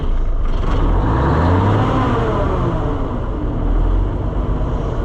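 A Ford L9000 semi with a Big Cam Cummins 855 diesel, its throttle cable sticking, revs in a loud, steady, low rumble that swells and holds close by, with no talking.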